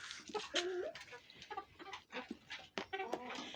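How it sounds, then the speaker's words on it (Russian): Naked-neck chickens about three months old cluck and chatter in a village yard, a close cluster of short, irregular calls at low volume. "Но они тоже как большие курицы стали за 3 месяца"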